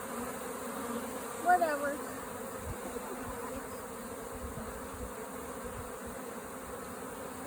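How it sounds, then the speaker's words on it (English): A honeybee swarm taken from a tree hums steadily while being hived, a faint, even insect drone with a brief spoken word over it near the start. "just found this swarm in a tree."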